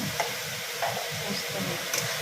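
Dried chilli paste, green chilli, cumin and ginger frying in a pan while being cooked for a vegetable ghyat, giving a steady close sizzle with faint stirring clinks and no voices.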